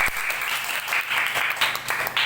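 Classroom applause from students during a school lesson, steady dense clapping throughout, fairly close and moderately loud with no talk over it.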